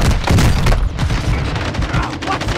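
A grenade explosion followed by dense gunfire in Call of Duty: Modern Warfare II, with loud booms and rapid shots running continuously over a chaotic battle.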